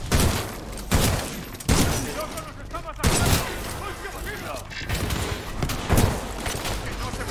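Repeated bursts of gunfire crack out at irregular intervals, loud and close, in Titanfall 2, with voices talking between and under the shots.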